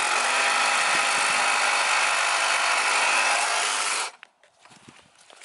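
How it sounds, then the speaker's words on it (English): A leaking PVC pipe being cut out for repair makes a steady, close rasping cut for about four seconds, then stops abruptly, leaving faint scattered handling noises. "He's cutting the pipe out so he can fix the leak."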